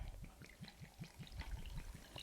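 Spirit poured over packed ice cubes for an Old Fashioned at a distillery, a soft steady trickle with faint rhythmic glugs and light clinks, close and fairly quiet.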